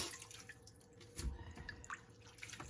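Seaweed being washed for tokoroten under running water, a faint, steady trickle with soft splashes and drips at close range.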